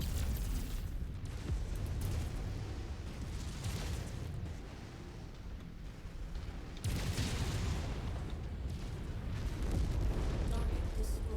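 Artillery guns fire and target explosions boom in a video game, a dense run of rumbling blasts that swells and fades, with a fresh burst of detonations partway through.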